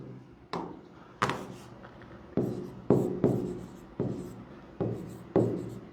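Chalk or marker taps and strokes on a board in a lecture setting, about ten sharp regular strokes each ending in a short scratchy drag, close and clear with no talk.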